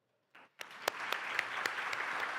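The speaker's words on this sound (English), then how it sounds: "If you can give them a round of applause." Steady applause from an audience at a ministerial panel session swells quickly and continues evenly, with a few distinct louder claps standing out.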